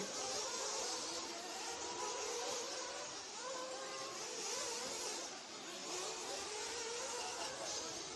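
Several 1/8-scale nitro offroad RC truggies run warm-up laps at a national race, a high-pitched, buzzing blend of small engines whining and revving at a distance, steady throughout with no talking.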